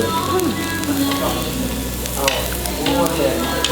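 Oil sizzles and hisses steadily in a pan as local Lao food fries, with a crackling wash and occasional scraping stirs. A voice is faintly present now and then.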